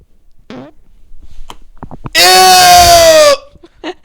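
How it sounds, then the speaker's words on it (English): A loud, drawn-out fart blown close into a microphone lasts about a second, buzzing and wavering in pitch, with scattered speech and small noises before and after. "If you fart on the mic, you have to smell."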